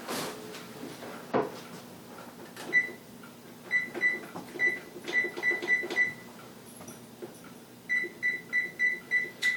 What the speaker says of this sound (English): So I'm going to set my timer.